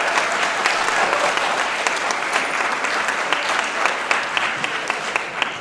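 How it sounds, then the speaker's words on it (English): Students and adults at a school lunch presentation applaud a veteran fire captain and paramedic, a loud, dense, steady round of clapping that holds evenly for several seconds. "Give him a round of applause."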